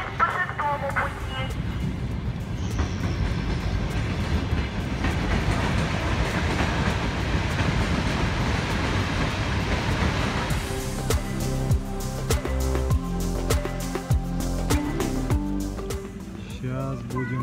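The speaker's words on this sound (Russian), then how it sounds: "Внимание, поезд по шестому пути." Rumbling train noise with rhythmic clatter as a train rolls into Tarusskaya station on track six, with people talking over it and louder metallic rattling later.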